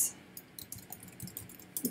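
Soft computer mouse clicks and light desk clicking sound close and faint while saving a watermark preset in Lightroom 5. There is no talking.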